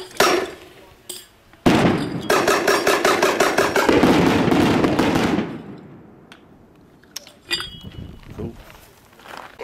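A flash bang round fired from a non-lethal launcher by Combined Tactical Systems, heard as a loud burst of rapid crackling pops lasting several seconds, followed by a few scattered impacts and brief voices.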